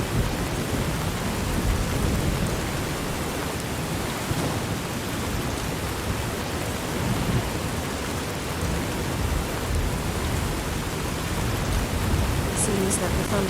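A thunderstorm in the video game The Maid's Journey brings dense, steady rain with low rumbling thunder throughout, close and continuous, with a few faint high clicks near the end.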